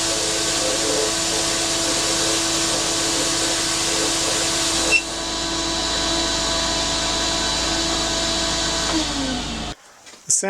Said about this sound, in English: my sandblast cabinet has a vacuum motor on it, so it gets noisy